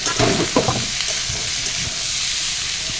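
Paneer and taro (kochu) with potato fry in a wok with a loud, close sizzle. Several stirring scrapes and bursts come early, then the sizzle settles into a steady crackle.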